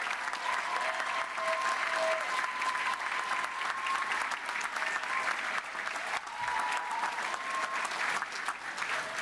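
Steady audience applause fills a University of West London graduation ceremony, with continuous, moderately distant clapping and a few faint voices and whistles under it.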